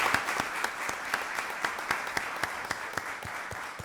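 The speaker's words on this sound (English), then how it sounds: "Let's give them a round of applause." Applause for the Rockdale County Parks and Recreation team at a county commissioners' voting session, a steady round of clapping from a modest crowd in a meeting room, moderately faint with individual claps standing out.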